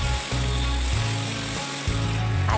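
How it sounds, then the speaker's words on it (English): An angle grinder cuts a metal garden hanger with a loud, continuous whine, and its pitch and load shift in repeated steps as the blade bites and eases off the metal. "cut the garden hanger with the grinder"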